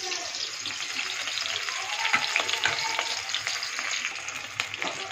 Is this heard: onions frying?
yes